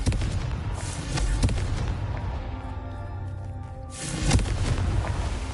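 Fiery Confringo spell blasts in the Hogwarts Legacy video game, a run of booming explosive bursts with a strong low rumble, a brief lull, then a fresh loud blast near the end, with no talk over it.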